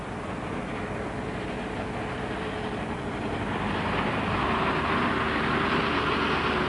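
A Land Rover rolls off tarmac onto a loose track, giving a steady, continuous engine and tyre rumble with crunching surface noise that swells slightly louder toward the end, with no talking.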